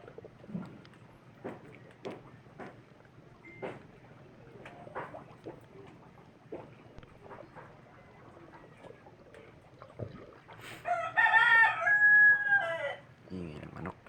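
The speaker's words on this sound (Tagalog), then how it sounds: "Ingay ng manok" Roosters crowing and chickens clucking near the sea beside a boat, scattered clucks at first, then a loud drawn-out crow toward the end.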